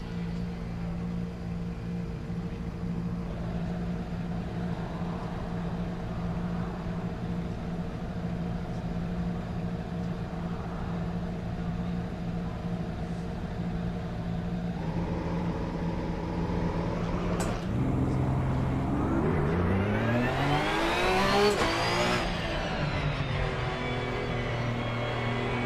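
Ferrari GT3 race cars in Assetto Corsa Competizione, a steady engine drone with harmonic whine that holds level, then rises and sweeps through gear changes as revs climb and fall, loud and continuous with no talk.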